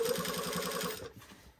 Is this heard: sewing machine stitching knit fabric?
yes